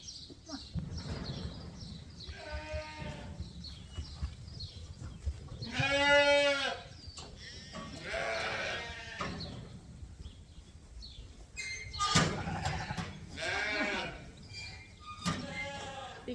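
Sheep and rams bleat repeatedly while being sorted for market in a farm pen, several loud, close calls rising over a constant background of shuffling flock noise.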